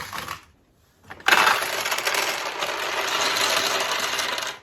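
Handful of pachinko balls poured into the upper hopper of a 1977 Nishijin Model B vintage pachinko machine, a dense metallic clattering cascade after a brief pause, close and steady until it stops.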